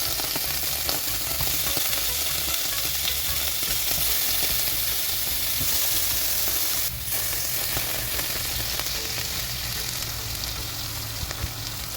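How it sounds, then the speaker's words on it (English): Sliced halloumi cheese sizzles in a frying pan, a steady, close crackling fry that continues without pause, with no talking. "So I'm about to put the halloumi on now"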